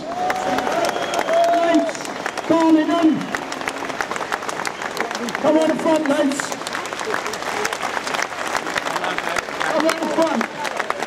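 Steady applause and crowd noise run throughout, with a man calling out instructions over it at a distance, as if over a loudspeaker.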